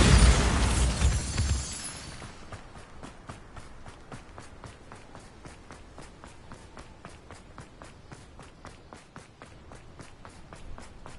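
A burst of the Bombarda blasting spell in Hogwarts Legacy, loud and rumbling at first, then fading into a steady run of quick, even footsteps.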